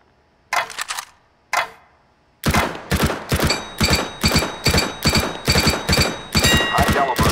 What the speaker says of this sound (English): Fire in short, controlled bursts.